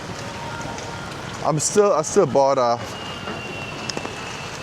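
Light drizzle from Storm Wutip patters steadily in Da Nang, a soft even hiss of falling rain close by, with someone briefly speaking over it.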